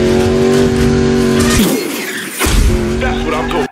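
A Mustang's engine roars and revs in a video game cutscene where it takes down intercepting cars, a loud sustained drone that dips briefly, then surges again with rising pitch.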